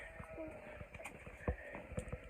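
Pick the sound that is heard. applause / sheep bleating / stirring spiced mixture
sheep bleating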